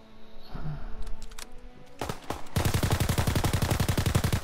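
A machine gun in Call of Duty WWII fires a few scattered shots, then a long, fast, even burst of loud, close automatic fire.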